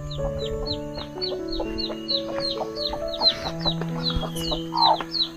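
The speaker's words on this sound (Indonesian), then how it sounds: "Dan ini ayam, semoga masih tetap aman teman-teman sampai besok." Chickens near a forest hut cluck repeatedly in quick, overlapping calls, close and fairly loud, with a steady background drone and no talking.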